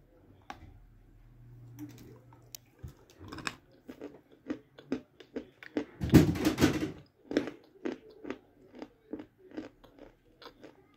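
Chalk bitten and chewed: a series of sharp, close crunches and crackly bites in an uneven rhythm, with one louder, denser burst of grinding in the middle.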